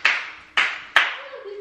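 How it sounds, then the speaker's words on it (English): Three sharp, loud hand claps at close range in a home, evenly spaced, each ringing briefly before fading, with a faint tonal hum under the last one. "Sorry for all the clapping."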